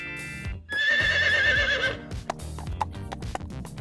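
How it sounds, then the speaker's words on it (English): A white horse gives a loud, clear whinny, followed by a quick run of hooves clip-clopping in a steady trotting rhythm, all close and alone without talk. "A mouse became a white horse!"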